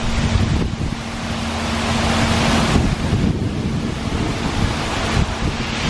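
Strong, steady wind roars outdoors during a walk on a stormy Singapore layover, buffeting the microphone loudly and continuously with no talking.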